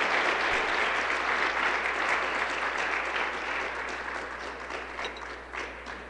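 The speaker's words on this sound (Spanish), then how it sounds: "Démosle un aplauso al Señor" A church congregation applauding the Lord during a Spanish-language worship service, broad sustained clapping filling the room at an even level, easing slightly toward the end.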